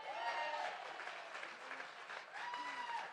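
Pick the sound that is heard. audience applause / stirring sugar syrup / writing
audience applause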